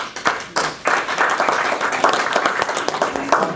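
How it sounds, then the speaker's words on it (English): An audience at a humanities center talk applauds to welcome a speaker to the podium, a dense burst of clapping that starts abruptly and keeps up steadily at close range throughout. "I welcome him to the podium, and I ask you to do so with applause"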